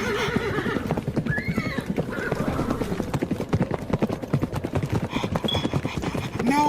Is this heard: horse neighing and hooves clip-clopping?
yes